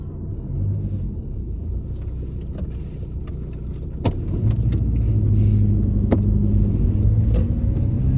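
A car pulls away during a driving test, its engine a steady low rumble heard from inside the cabin that swells as it moves off, with a few sharp clicks and taps over it and no talking.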